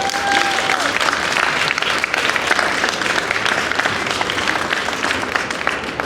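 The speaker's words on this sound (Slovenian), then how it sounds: "Tako da en velik aplavz." Audience at a talk breaking into loud, sustained applause, dense clapping filling the room evenly from start to end, with no speech over it.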